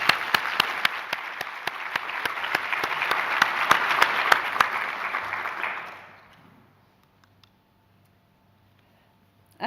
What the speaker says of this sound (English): A big applause to Diane.